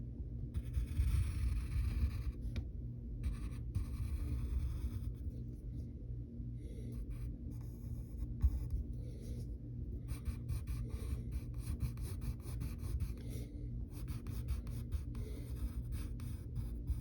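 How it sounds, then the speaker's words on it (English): A pen scratches across paper while cartoon legs are drawn, making soft repeated strokes in short clusters over a faint, steady low rumble. "Now we're gonna draw his legs"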